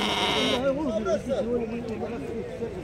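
Sheep bleat repeatedly and loudly at a busy Tuesday livestock market in Azrou, several overlapping calls close by amid crowd noise and talking.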